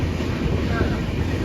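A train starting to move off, a steady low rumble and clatter of wheels and carriages heard up close and continuous throughout.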